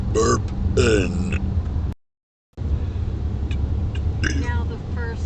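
Burping inside a car, with a few short, close throaty bursts over a steady low cabin rumble. The sound cuts to silence briefly partway through, then more soft vocal noises follow over the rumble.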